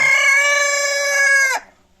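Loud, sustained crowing from an ornamental rooster on a free-range chicken farm, one long drawn-out call that cuts off sharply near the end and leaves near silence.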